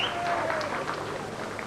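Crowd at the 1995 World Darts Championship applauding after a set win, a steady wash of clapping from a large audience heard at a distance, with a commentator's voice over it.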